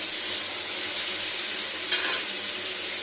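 Carrots, beetroot and cauliflower fry lightly in leftover oil, giving a steady, close, even sizzle with a soft crackling hiss throughout and one brief stir-scrape flaring near the end.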